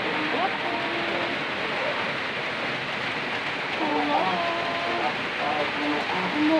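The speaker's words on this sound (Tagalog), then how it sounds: "Umuulan, umuulan, ulan, ulan." Steady rain on a rainy Sunday falls as a broad continuous hiss throughout, with someone talking over it in the foreground.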